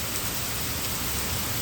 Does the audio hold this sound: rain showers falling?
yes